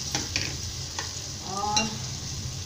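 Cauliflower sizzles in hot spiced oil in a pan for aloo gobi, with a steady frying hiss broken by a few sharp stirring scrapes and clinks close by.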